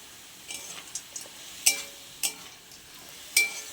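Lentil dumplings (bori) frying with red spinach in a pan: a low sizzle runs throughout, broken by several sharp clinks of a spatula against the pan at irregular intervals, close and fairly quiet.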